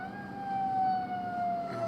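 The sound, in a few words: ambulance siren passing on the road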